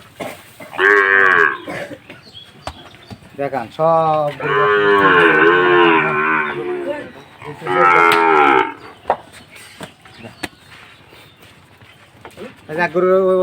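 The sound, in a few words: Sahiwal cattle mooing at market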